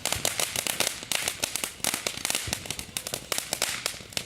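Fireworks and firecrackers set off outdoors, a rapid irregular string of sharp cracks and pops, loud and close, crackling continuously without any talk.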